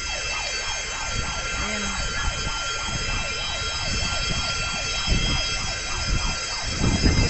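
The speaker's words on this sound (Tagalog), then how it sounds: "Tapos may ambulansya." An ambulance siren wails in a steady rising-and-falling cycle outside a clinic after a bomb scare, loud and continuous beneath street noise and rumbling traffic, while a voice says a single word.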